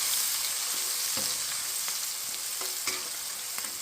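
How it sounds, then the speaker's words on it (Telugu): Onions, green chilies, curry leaves and garlic fry in a hot pan for a pumpkin dish, giving a steady close sizzle with occasional stirring scrapes and pops. "ఉల్లిపాయలు వేసేద్దాం, వేపుకుందాం. ఇప్పుడు పచ్చిమిర్చి, కరివేపాకు, ఎల్లుల్లిపాయలు కూడా యాడ్ చేసేద్దాం"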